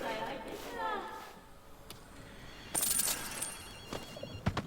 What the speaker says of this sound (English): So I hear a phone.